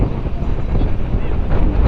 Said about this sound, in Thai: ลมลมแรงมากเลย